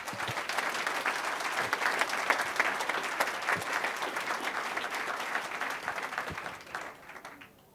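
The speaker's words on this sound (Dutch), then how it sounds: "een applaus voor Gerard Noordhof." An audience at a regional sports and entrepreneurs awards evening applauds a presenter, with dense, steady clapping that holds for several seconds and then tapers off at the end.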